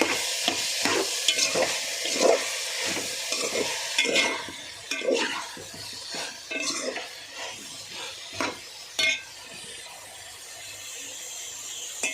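A spoon stirring eggplant and potato curry frying in a pan, repeated scraping clinks against the pan over a steady sizzle, close, with brief talk.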